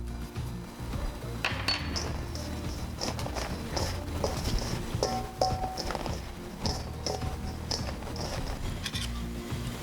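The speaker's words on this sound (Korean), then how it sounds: "스텐볼에 쌀가루하고 소금을 넣어서 잘 섞어주세요" Rice flour and salt stirred together in a stainless steel bowl for rice cake making, giving repeated light metallic clinks and scrapes at close range with no talking.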